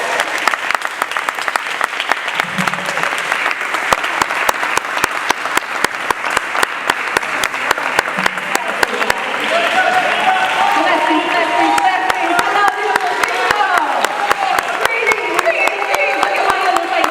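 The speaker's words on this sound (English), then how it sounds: "Please give her a round of applause." Sustained applause from a large audience at a live event in Washington, DC, dense and steady, with crowd cheering swelling in toward the end.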